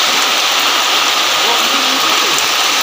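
Steady rain falls in a dense, uniform hiss with scattered droplet patter, loud and close, with no pause and no other distinct sound.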